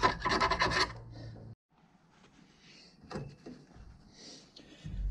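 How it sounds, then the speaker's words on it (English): Steel tubing having the burr filed off its inside edge: a dense burst of raspy scraping strokes up front, then quieter intermittent rubbing and scraping with short gaps, close and moderately loud. "Kind of taking the burr off the inside of these pieces of tubing."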